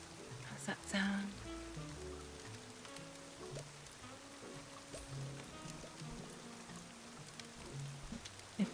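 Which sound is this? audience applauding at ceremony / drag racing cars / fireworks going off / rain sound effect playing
rain sound effect playing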